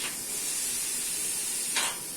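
A pressure cooker hisses a steady stream of steam while beef trotters cook, with a brief louder puff toward the end.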